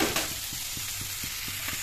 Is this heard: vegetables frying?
yes